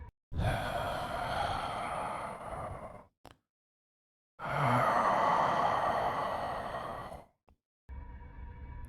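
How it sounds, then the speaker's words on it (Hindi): Two long, heavy breaths close by, each lasting a few seconds, separated by a pause of silence. "तभी मैंने अपने पीछे किसी की सांसों की आवाज़ सुनी"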